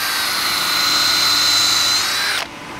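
A power drill bores screw holes through wood for a mantel in a woodshop, whining loud and close at a steady pitch before cutting off abruptly near the end.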